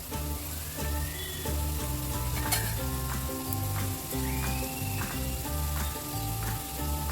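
Cauliflower for crispy Gobi Manchurian fries in hot oil, a loud, dense, continuous sizzle and crackle filling the whole stretch, heard close up with no talking.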